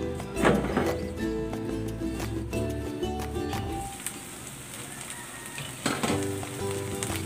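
Eggplant (talong) fritters sizzle in a covered frying pan, a steady close crackle of hot oil with a few clanks of the lid and utensils.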